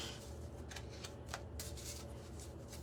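Playing cards printed with Hebrew lettering riffle and rustle in a steady shuffle, a continuous papery flutter with a few sharper snaps, close up and alone.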